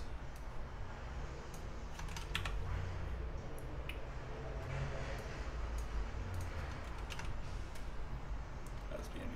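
Quiet, scattered clicks of typing on a computer keyboard come in irregular bursts over low background hum.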